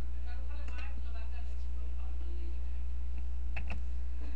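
Clusters of light keystrokes rattle on a computer keyboard as text is typed during a Photoshop session, soft and close over a constant low electrical hum.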